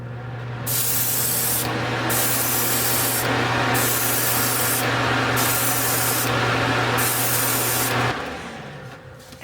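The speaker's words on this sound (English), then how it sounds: "Now I'm just going to use my airbrush. I've got about 30 psi on it, and I'm just going to give it 2 or 3 thin coats." An airbrush at about 30 psi sprays thin coats of chrome plating onto fishing lures: five even bursts of close, hissing spray, about a second apart, over a steady compressor hum, with no talking.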